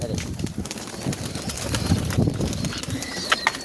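Pigeons near their nest with eggs and chicks make soft coos and rustling wing movements close by, amid faint background noise.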